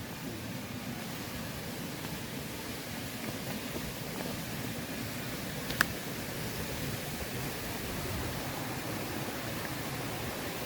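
Rushing water of the Wangpa falls near Damtua Waterfalls in the hills, a steady broadband roar heard from a distance, continuous and even with no voices over it.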